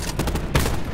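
Sniper rifle fire in Black Ops 4 gameplay, a few sharp loud cracks in quick succession with a heavy booming shot near the middle, close and dominant.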